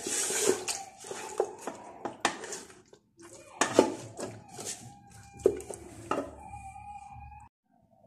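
Lamb meat stirred in a cooking pot with rosemary, a series of metallic scrapes and clinks of a utensil against the pot, irregular and close, with quiet gaps between them.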